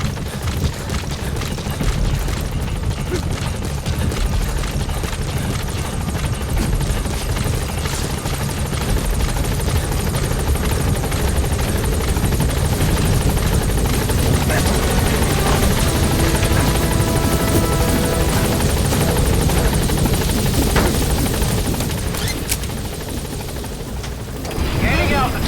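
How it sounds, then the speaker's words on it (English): A support helicopter arrives in Metal Gear Solid 5, its loud, close rotor thrum and engine roar sustained throughout, with radio voices speaking over the noise. "Support helicopter has arrived."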